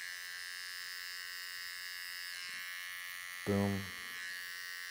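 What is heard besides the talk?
electric hair trimmer cutting hair over a comb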